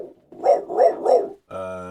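A beatboxer mimics a dog bark with the voice, three quick punchy woofs in a row, loud and close, followed by a buzzing sustained vocal tone.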